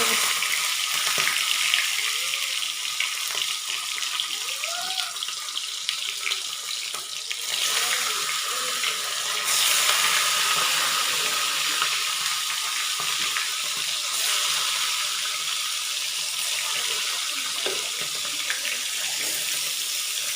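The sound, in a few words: meat frying in hot oil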